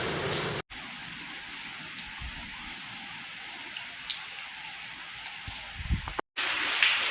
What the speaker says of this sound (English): The heaviest rainfall of the night has entered the Shenandoah Valley